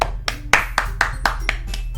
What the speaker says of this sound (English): Natsuki finishes and everyone applauds